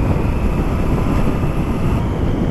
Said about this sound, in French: Oh, la sonorité, rien que d'origine, j'adore. Alors le pot, je l'entends pas. C'est vraiment le moteur que j'entends.